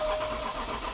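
The engine of a flood-damaged Range Rover starts and runs with a steady broadband mechanical rumble, brief and fairly close, with no talking.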